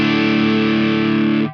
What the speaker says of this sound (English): You can have a post drive, so this is on the output signal,